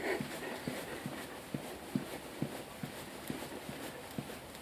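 A greyhound trots past, its paws ticking in a quick, regular pattern of soft taps, heard faintly against a hushed outdoor background.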